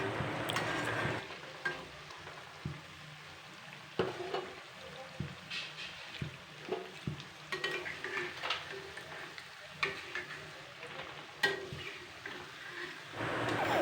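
Pumpkin flower fritters crackle and sizzle in hot oil as they are lifted and strained out, with soft scattered clinks of a utensil against the pan over a low, steady frying hiss.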